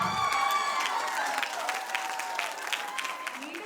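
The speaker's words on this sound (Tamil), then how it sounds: "ஒரு பலத்த கரகோஷத்தை அவங்களுக்கு கொடுக்கலாமா?" Audience applause at a stage performance, dense clapping that stays steady and fairly loud throughout, with some crowd noise mixed in.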